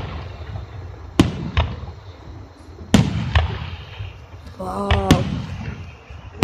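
Fireworks for a city day celebration burst outdoors, with three sharp loud bangs spaced a second or two apart and crackling between them, while people talk and exclaim over the display.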